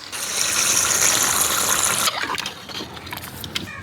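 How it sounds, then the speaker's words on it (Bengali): Hot water gushes steadily into a pot of browned meat for about two seconds, then stops, leaving faint clinks and handling noises. "এখন মাংসটা সেদ্ধ হওয়ার জন্য গরম পানি দিয়ে দেবো"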